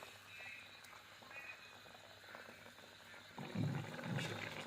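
A pot of mustard fish curry with three pieces of fish and potatoes simmers at a low bubbling boil, faint and steady, with louder gurgles toward the end and no talk.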